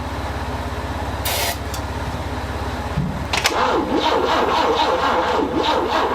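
Step van engine with a freshly rebuilt Carter BB-1 carburetor cranking over, a steady rhythmic starter churn that rises and turns rougher partway through, close and loud.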